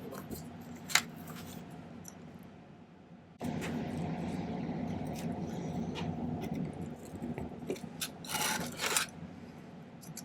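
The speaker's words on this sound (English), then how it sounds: "we're just going to file just a little bit so it'll bend easier" Metal file rasping a notch into a silver cuff bracelet, close, steady scraping strokes with a few sharp clicks and taps in between, no voices.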